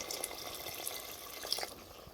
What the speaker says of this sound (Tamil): ஒரு 150 அளவு ml வந்து நான் வாட்டர் சேர்த்துக்கிறேன்